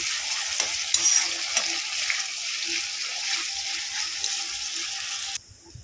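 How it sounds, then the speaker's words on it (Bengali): Onions fry in a pan, hissing and crackling steadily at close range, with light stirring clinks throughout until the sound cuts off abruptly near the end, with no voices. "পেঁয়াজটাকে লাল করে ভেজে নেবো"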